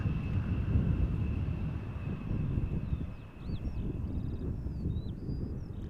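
Airplane at Amsterdam Schiphol Airport, heard from outdoors: a steady, broad engine roar with a faint high whine, heavy wind rumble and a few distant birds chirping.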